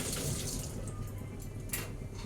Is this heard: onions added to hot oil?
no